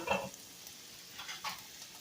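Chicken frying in a pan, a soft crackling sizzle with a few louder bursts, close by and fairly quiet.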